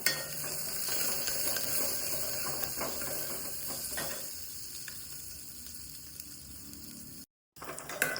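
Finely chopped onion sizzles in hot oil in a pan for tempering, a loud continuous frying hiss with occasional stirring scrapes, briefly cutting out near the end before resuming.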